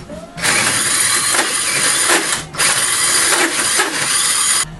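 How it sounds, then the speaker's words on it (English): A power drill bores through a wooden part for a homemade candy machine, running loud in several close bursts with short pauses between them. "if I just drill through, it looks pretty much right"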